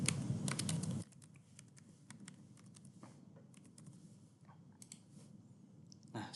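Employee data typed on a computer keyboard: a loud burst of rapid key clicks at the start, then scattered individual keystrokes at an irregular pace, close but fairly quiet, over faint room hum with no speech.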